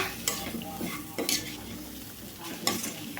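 Grated radish poriyal stir-fries in a pan, a soft sizzle running under several brisk scraping stirs of a spatula against the metal, close up and fairly quiet, with no talking.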